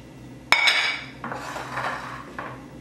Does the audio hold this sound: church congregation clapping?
no